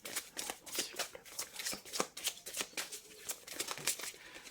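Tarot cards being handled, shuffled and turned over on a table, a dense run of quick papery flicks and slaps close by with no voices.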